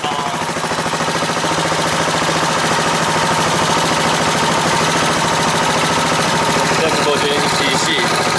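A Suzuki Savage 650 (LS650, NP41A) single-cylinder motorcycle idles, a loud close-up rapid thumping chug held steady throughout with a slight rise near the end, while a voice talks over it.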